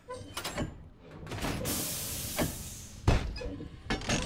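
A door opens in the game Marauders with a sliding, hissing sweep followed by heavy metallic thuds and clanks, a few distinct knocks spread over several seconds; no talking.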